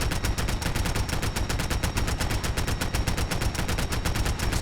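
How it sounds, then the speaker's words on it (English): Rapid automatic gunfire from a video game shooter rattles on without a break, a dense loud stream of evenly spaced shots fired at an enemy. "Just gotta keep shooting him in the head."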